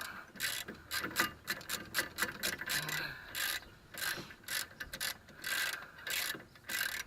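Ratcheting and clicking of a wrench snugging bolts on a front brake, in quick irregular bursts of mechanical clatter with short pauses, fairly close and moderately loud, no talking.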